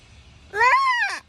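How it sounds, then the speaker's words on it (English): A single drawn-out mewing call of a gray catbird, rising then falling like a cat's meow, clear and fairly close against a quiet background. "It's a gray cat bird. Look it up. Sounds just like a cat,"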